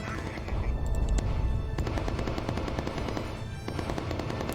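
Incendiary rounds fired from the bomber's guns in the video game Bomber Crew, a dense rapid rattle of automatic fire that runs continuously and fairly quietly behind the game's other noise.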